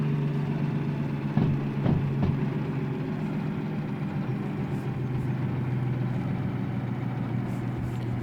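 A locomotive engine in Derail Valley, a train simulator, runs with a steady low rumble and droning hum throughout. A couple of faint clunks come early, and there is no talk.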